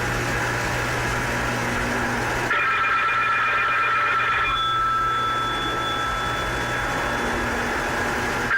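A telephone rings in an animatronic attraction, its bright repeating bell tones sounding steadily through a dense, loud mechanical hum, with a brief shift in the texture midway and no talking.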